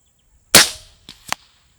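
Diana Stormrider .22 air rifle fires a single sharp crack, followed by two softer clicks a moment later, close and isolated against silence.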